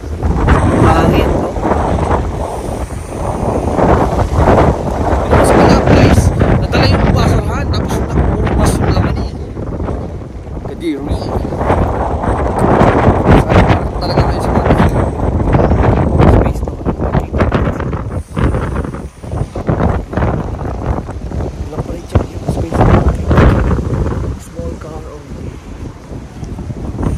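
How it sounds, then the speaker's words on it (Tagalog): Strong wind buffets the microphone outdoors in Canada, producing loud, gusty low roaring bursts that rise and fall unevenly over nearly half a minute with no clear voices. "hangin."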